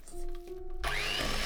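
A mixer whips shea butter, first a steady whirring hum, then a brief pause and a louder, grittier whir as the beaters dig into the thick butter, close up with no voices.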